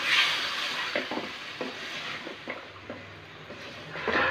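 Raw ground spice paste hits a pan of frying farm chicken curry, giving a soft steady sizzle with a spoon scraping and stirring in repeated strokes, close and fairly quiet.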